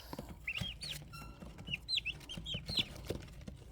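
Two-day-old turkey poults peeping in a brooder, clear high chirps repeating in quick bursts close up, with soft pecking and shuffling beneath.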